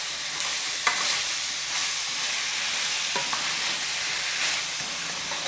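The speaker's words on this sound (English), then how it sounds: "Now we're going to stir everything up" Chicken and potatoes being stirred in a pan, a steady sizzle with soft scraping strokes every second or so, close and continuous, with no talking.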